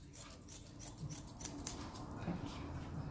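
Grooming scissors trim a shih tzu's fur in a series of quick, soft, close snips, some grouped together, heard against a quiet room.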